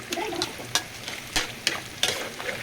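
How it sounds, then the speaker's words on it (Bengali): Nimki, a Bengali savory snack, frying in a batch of oil, with a steady soft sizzle broken by several sharp scraping or stirring clicks at irregular intervals, close and moderately loud. "300 প্লাস নিমকি আমি এখানে বানিয়ে নিলাম, এখন আমি ভেজে নিচ্ছি"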